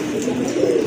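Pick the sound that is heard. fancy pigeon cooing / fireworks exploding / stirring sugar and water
fancy pigeon cooing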